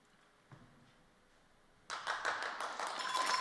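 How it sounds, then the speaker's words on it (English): After a quiet moment, a round of applause breaks out and keeps building, many hands clapping in a large finals hall in Estonia. "a round of applause rings round the finals hall here in Estonia"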